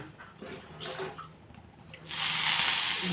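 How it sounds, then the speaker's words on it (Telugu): A little water hits a hot pan before foxtail millet dosa is made, bursting into a loud sizzling hiss that starts suddenly after a quieter stretch of kitchen sounds and keeps going. "ప్యాన్ మీద ఇలాగా కొంచెం వాటర్ వేస్తే దోశ బాగా వస్తుంది"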